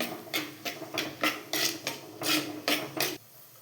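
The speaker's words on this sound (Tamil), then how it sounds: "இது எல்லாத்தையுமே நல்லா ஒரு கிளறிக்கலாம்" Chicken gravy being stirred in a clay pot: steady rhythmic scraping strokes, about eight close, loud sweeps at an even pace with a bubbling, sizzling background, then the stirring stops.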